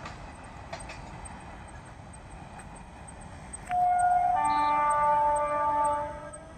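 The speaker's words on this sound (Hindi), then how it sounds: "यहां से देखो आप, तो ये देखो जा चुकी है ट्रेन।" Train of about ten coaches crossing a bridge: a steady distant rumble with faint clicks, then a loud sustained horn blast that holds for a couple of seconds before fading.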